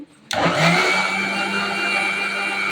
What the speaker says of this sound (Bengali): ব্লেন্ডারে ব্লেন্ড করে নেব